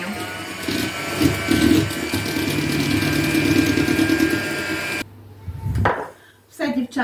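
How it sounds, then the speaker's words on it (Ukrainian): Sour cream batter is whisked with an electric mixer while oil is poured in, a loud continuous motor whir with rattling against the bowl that cuts off abruptly, followed by brief clattering and handling. "ще раз збиваємо і доливаємо олію"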